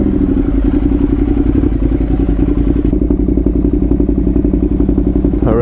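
A high-mileage BMW motorcycle, around 200,000 miles, pulls away with a loud, steady engine drone up close. Light rattles and thumps come through the ride, and no one talks.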